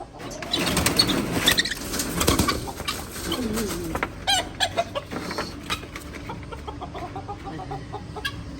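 Chickens cluck and squawk loudly and close by as one is chased and caught for a cage, with wing flapping and scuffling, and bursts of agitated clucking continuing throughout.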